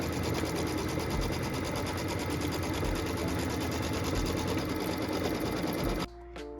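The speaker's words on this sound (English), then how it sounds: "So what we're doing here now is stitching the placement line for the batting." A sewing machine runs steadily for about six seconds, stitching the batting placement line on a pieced quilt block, with a dense, even mechanical whir before it stops abruptly.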